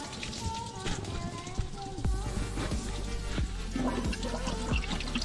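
Water flushes through the cooling system of an 80 Series Land Cruiser with a 1F engine, splashing and pouring in a continuous trickling stream punctuated by drips, fairly close, with faint speech in places.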